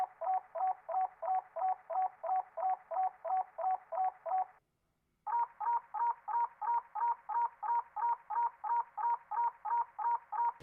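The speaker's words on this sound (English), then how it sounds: "It's like a little bird chirp." Pitched bird-chirp sample from a song, a rapid even run of short chirps that drops out briefly and then resumes at a slightly different pitch, clean and alone.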